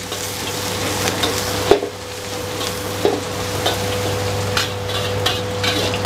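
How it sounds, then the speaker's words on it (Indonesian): Onions being sautéed in a wok, a constant close hiss of frying with occasional knocks and scrapes of the spatula, over a steady low hum, no voices. "Terus ini ada bombaynya langsung gua masukin ke dalam kuali. Oke, gue tumis."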